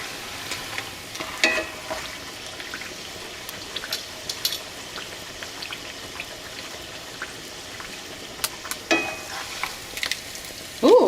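A tortilla fries in a pan for a cheesy, crunchy double-decker quesadilla, giving a soft, steady sizzle with scattered light clicks and scrapes of stirring, close by and without talk.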